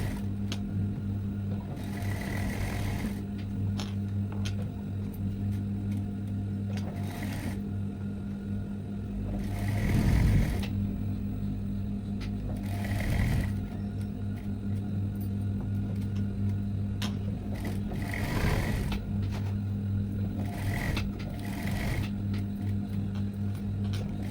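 A sewing machine stitches the back neck of a blouse with a steady mechanical whir, rising in short louder bursts of running stitches over a constant low hum, with no voices.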